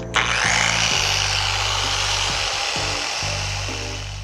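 Rotary tool fitted with a sanding wheel, grinding against a boat during restoration; a close, loud, continuous high whine with brief dips and pitch changes as pressure shifts.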